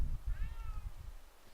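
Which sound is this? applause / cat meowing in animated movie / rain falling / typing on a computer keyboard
cat meowing in animated movie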